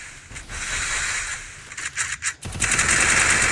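Automatic gunfire in a 1v1 custom match of a mobile shooter game, dense rattling bursts that break into a few separate shots near the middle before a sustained loud volley resumes, with no talk over it.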